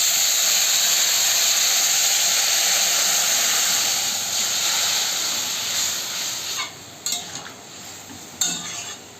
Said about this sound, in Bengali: এর মধ্যে আমি মাছের ঝোলটাকে দিয়ে দেবো।